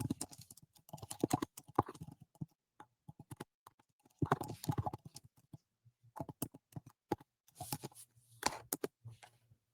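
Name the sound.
typing on a computer keyboard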